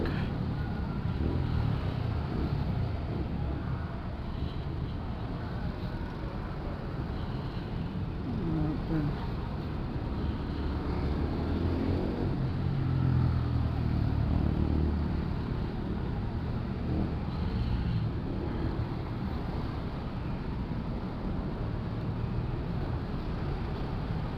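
Friday 5 p.m. road traffic rumbles along steadily, a low continuous wash of car engines with occasional motorcycle revs, and people talking over it.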